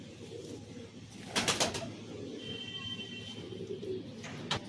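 Domestic pigeons, small Sabdom house birds among a lot of Giribaz, Madrasi and Malwai pigeons for sale, coo in a steady low murmur, broken by a brief cluster of sharp clattering bursts near the start and one near the end.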